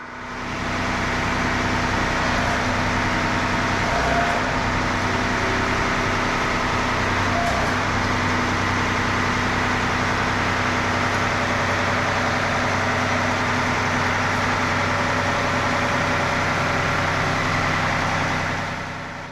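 A tractor engine runs at a steady idle near a pole barn, producing a continuous, close, low rumble with a constant drone and no talking.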